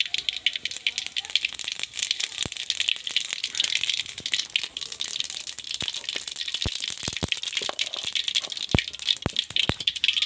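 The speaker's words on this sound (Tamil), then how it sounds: "தேவையான அளவு எண்ணெய் ஊற்றிட்டு எண்ணெய் நல்லா சூடாகணும்னு கொஞ்சமாக கடுகு போட்டுக்கலாம்" Mustard seeds spluttering in hot oil in a pan: a steady sizzle with scattered sharp pops and crackles close by, running continuously throughout.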